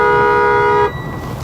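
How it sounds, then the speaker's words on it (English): Door alarm on a 2020 Freightliner M2 106 truck, a steady electronic tone with stacked harmonics sounding close and loud for about a second before cutting off into quiet cab noise. "if you try to open this door while this vehicle is ready to move, you will get this alarm every single time"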